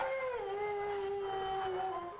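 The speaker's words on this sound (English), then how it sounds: "The lonesome howl of a caged animal" A caged dog at an animal shelter howls in one long, wavering, mournful note that slides down and then holds steady, close and clear with no other sounds.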